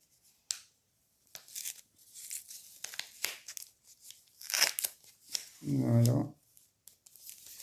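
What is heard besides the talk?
opening mail envelope, paper tearing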